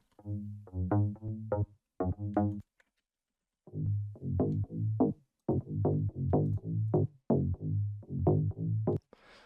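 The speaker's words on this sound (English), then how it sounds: "As you can hear, this is really a donk kind of sound" Plucky donk-style bass synth patch, the Notorious preset from the Redemption pack, in a house sound. It plays bouncy, clipped notes in a rhythmic pattern, with a short gap after the first phrase, loud and clear with no voices.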